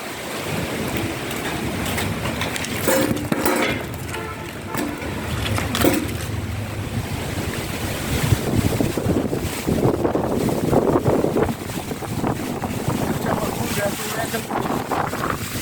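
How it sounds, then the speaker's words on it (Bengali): Strong wind from a Kalbaishakhi storm buffets the microphone in continuous loud gusts, with a few thumps and rustles. "অনেক বাতাস"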